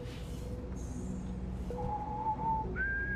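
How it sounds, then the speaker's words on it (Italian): Game characters in Starfield whistle melodic tunes, with several rising tonal lines over a busy crowd murmur and ambient hum in a spaceport interior; the whistling is moderately loud and steady. "Tutti che fischiano."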